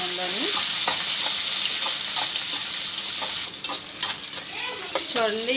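Onion pieces frying in oil in a pan for a Telugu carrot fry, a loud continuous close sizzle with repeated stirring scrapes, and a voice briefly heard over it.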